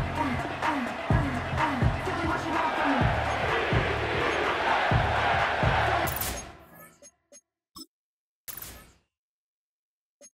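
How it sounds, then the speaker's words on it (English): A stadium crowd roars loudly in the video game Madden 25 at a New England Patriots game, with a rhythmic pulsing chant-like drum beneath, cutting off abruptly into near silence with a few brief clicks. "The crowd is definitely ready."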